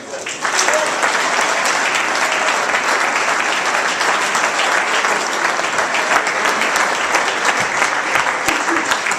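A large audience applauds loudly and steadily for the host and his crew at a festival-committee entrance event, a dense continuous wash of clapping that lasts throughout.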